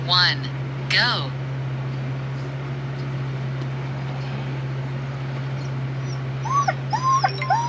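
Sled dogs on a forest road whine and whimper near the start and again toward the end, with a steady low engine hum underneath throughout.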